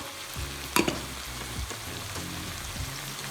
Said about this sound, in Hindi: ये देखें सब्जियां हमारी हो चुकी हैं। इसको ज़्यादा सॉफ्ट नहीं करना, सिर्फ 5 मिनट के लिए भूनना है।